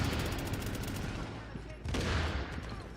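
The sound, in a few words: grenades and gunfire in The Division 2 video game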